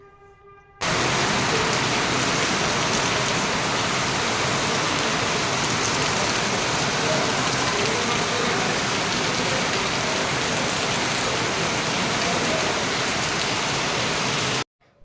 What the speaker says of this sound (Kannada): ಇವಾಗ ಇಲ್ಲೂ ಸ್ವಲ್ಪ ಲೈಟಾಗಿ ಮಳೆ ಬರ್ತಾ ಇದೆ